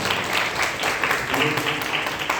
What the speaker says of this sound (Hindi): इनके लिए एक बार जोरदार आप लोग ताली करें।